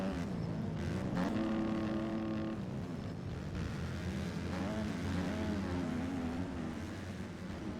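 Motocross bikes racing in a backyard MX series B-class moto, engines revving and droning past at mid distance with rising and falling pitch, no talking.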